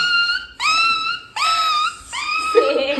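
A person imitates a puppy with a voice, giving three high, whiny yelps in a row, loud and close, followed by a brief lower grunt.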